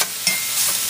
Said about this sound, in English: keep stirring it around the pan until it gets crumbly and brown